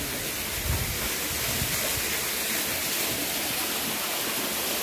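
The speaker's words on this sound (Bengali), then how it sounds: "অবশ্যই সেই কাঙ্ক্ষিত ঝর্ণার আওয়াজ পাওয়া যাচ্ছে" A waterfall at Panchgaon in Kalmakanda, Netrokona, pours out a constant broadband roar of rushing water, loud and unbroken, heard alone without voices.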